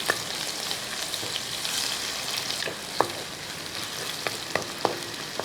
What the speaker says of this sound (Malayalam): ഇഞ്ചി ഇങ്ങോട്ട് ഇട്ട് കൊടുക്കുക ഇനി ഒരു രണ്ടൊന്ന് വറ്റൽമുളക് ഒന്ന് മുറിച്ച് അങ്ങോട്ട് ഇട്ട് കൊടുക്കുക